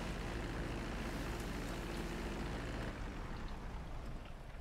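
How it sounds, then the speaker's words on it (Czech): A steady, loud, broadband roar from an aircraft engine inside a hangar in the video game GTA V at McKenzie Airport, holding constant throughout before easing slightly at the end, with no voices. "Letadlo v hangáru."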